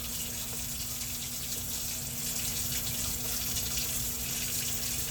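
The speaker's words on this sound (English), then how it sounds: "let the sink fill up with water" A kitchen sink fills steadily from the tap while making pretzel dough, a constant close hiss and gush of running water with a low hum underneath.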